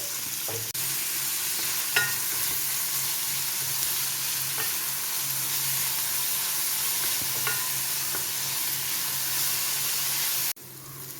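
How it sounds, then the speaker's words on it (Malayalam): One and a half onions with a pinch of salt sauté in sunflower oil for an egg dish, a steady, close hiss of frying with occasional scraping stirs, cutting off abruptly near the end. "ഒന്നര സബോള എടുത്തിട്ടുണ്ട് ഒരൽപ്പം ഉപ്പിട്ട് അതങ്ങോട്ട് വഴറ്റ"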